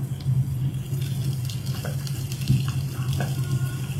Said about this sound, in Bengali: এই সামান্য তেলের মধ্যে আমি বেগুনগুলোকে ভেজে নিচ্ছি।